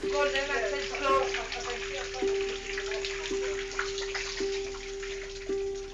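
Water from a shower in the bathroom above drips and splashes steadily through a leaking ceiling, with a faint repeating tone running under it throughout.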